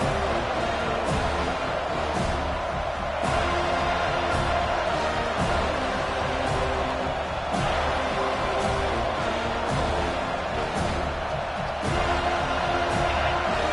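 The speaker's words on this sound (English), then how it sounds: "Here comes this home crowd as the defense tries to get off the field on third down." A home crowd at a Florida State football game roars steadily in a large stadium, a dense, continuous wash of cheering with occasional sharp peaks, no clear voices standing out.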